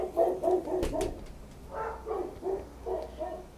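Several dogs bark in a quick series of muffled, mid-distance woofs, a cluster of barks, a short pause, then more barks, with no talk over them.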